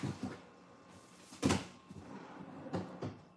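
An indoor drawer is pulled open, giving a few quiet sliding knocks and clunks, one sharper bump near the middle and softer rattles after it, in a quiet room.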